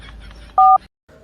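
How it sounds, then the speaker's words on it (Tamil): A telephone being dialed sends out one loud, clear two-tone keypad beep, with quiet room noise before it and a faint, softer tone shortly after. "போன் பண்றேன்"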